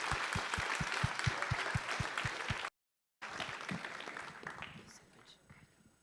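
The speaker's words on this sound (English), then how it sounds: "Everyone give him a big round of applause." Audience applause at a hackathon opening ceremony, a dense wash of clapping with a brief dropout midway, thinning and fading toward the end, with a few louder thumps near the start.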